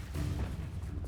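A Bombarda spell explodes in Hogwarts Legacy during a fight, making a dense, loud burst with a rumbling low end that fills the whole brief moment.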